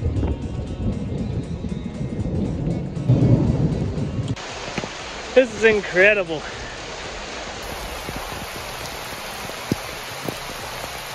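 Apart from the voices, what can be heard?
rain and thunder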